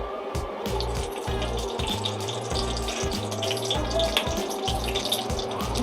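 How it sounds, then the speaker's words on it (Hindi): Cumin, chillies and bay leaf sizzle and crackle steadily in hot oil in a pan, a loud, continuous frying hiss with a regular stirring rhythm and no talking. "मसाला बहुत आवाज़ आ रहा है"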